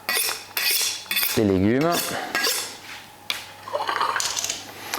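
A Chinese cleaver chops greens for caldo verde on a board, sharp close knocks and scrapes in uneven bursts, with a brief voice cutting in between strokes.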